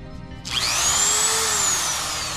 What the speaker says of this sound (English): So what I have here is my sander.